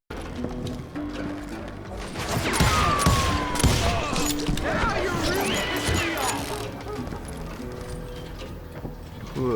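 Gunfire in the Western shooter game Call of Juarez, a dense clatter of shots and mechanical clanks mixed with hoofbeats and crashing, loud and busy with voices shouting over it.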